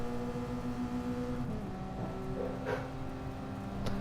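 Race car engine in Gran Turismo Sport droning steadily with a sustained tonal whine, shifting pitch midway as the car runs close behind a rival, with brief bursts and a constant loud presence throughout.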